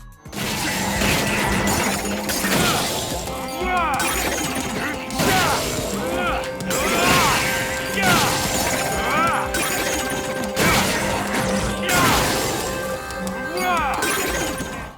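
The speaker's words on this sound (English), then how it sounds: "When you hit guys and they go flying and shatter with this RGB color effect" Enemies shatter when struck in the action game Travis Strikes Again, repeated glassy crashes and breaking bursts every couple of seconds amid game sound effects and music, with a voice talking over them.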